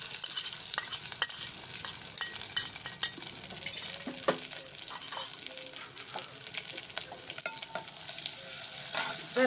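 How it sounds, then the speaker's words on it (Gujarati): Cumin, a pinch of asafoetida, ginger, chili and finely chopped garlic sizzle in hot oil and butter for paneer ghotala, with a steady frying crackle and scattered clinks and scrapes of a spoon stirring in the pan. "તો તેમાં આપણે જીરું ઉમેરીશું, ચપટી હિંગ, તેની સાથે આદુ, મરચાં, લસણ ઝીણું ઝીણું કટિંગ કરી લીધું છે તે પણ ઉમેરી દઈશું"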